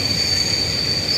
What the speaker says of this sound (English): Network rail test trains have stopped.